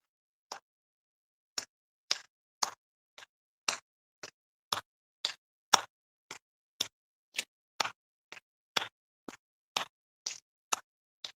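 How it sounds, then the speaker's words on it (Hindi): Yoga group session with participants clapping hands in front and behind the body, about twenty crisp single claps in a steady, slightly uneven rhythm with clear silence between them, nearby and moderately loud. "चलिए आगे पीछे ताली लेंगे।"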